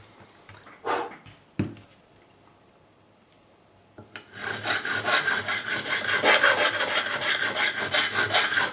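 A metal file rounds over the beveled fret edges on a G&L S-500 guitar neck during a re-fret. A couple of sharp knocks come first, then close, steady, rhythmic rasping strokes carry on without pause.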